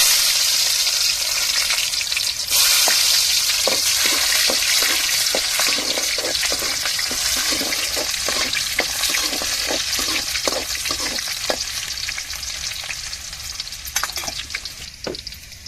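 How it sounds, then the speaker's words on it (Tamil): A steady, loud sizzle of mustard seeds and onion frying in hot oil, with repeated clicks and pops of seeds and scraping stirs throughout; no talking. "எண்ணெய் சூடேறிட்டு இப்போ கடுகை சேர்த்துக்கிடுவோம் அதுக்கடுத்து நம்ம வெங்காயம் சேர்த்துக்கிடுவோம்"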